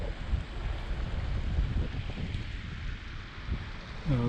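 Wind from a passing storm at an icy lake basin buffets the microphone in a steady, rushing roar with low gusty rumble, and a faint voice comes in briefly at the end.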